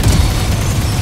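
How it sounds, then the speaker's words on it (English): A flashbang grenade goes off in Valorant, a loud, dense burst with a harsh low thump that fills the whole moment, close and unbroken. "Flashbang"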